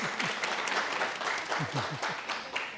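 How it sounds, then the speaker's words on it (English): A room full of audience members gives a round of applause for speaker Rick Baldwin at a talk on the history of Winter Park, dense, even clapping filling the whole stretch. "give him a round of applause"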